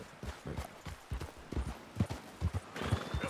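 Horse hooves clip-clop at a steady walking rhythm in Red Dead Redemption, quiet and close, with a brief whinny near the end.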